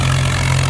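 A new tractor's engine runs steadily close by, a continuous low idle-like drone with a regular pulse and no voices.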